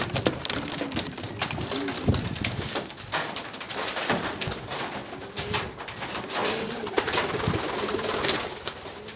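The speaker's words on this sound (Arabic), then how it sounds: "طير طير طير طير سيدي الحمام" Pigeons coo and flutter around a loft, a busy continuous mix of soft cooing and wing noise with some rain-like patter, moderately loud throughout with no talk.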